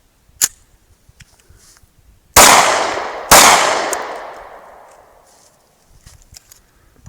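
A Springfield XD (HS2000) pistol, tested in sand and mud, fires two loud close shots about a second apart, each with a long echoing decay, after a quiet stretch of small handling clicks.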